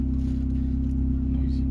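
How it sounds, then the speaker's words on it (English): A car engine idles steadily at close range, a constant low hum running through the whole stretch with no revving. "Sorry for the noise, because my engine is working now."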